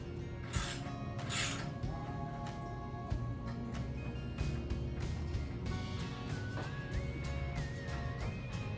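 A ratchet clicks through quick, uneven bursts while loosening bolts on a Sole F80 treadmill during disassembly, close and mechanical, with a few louder metallic knocks in between.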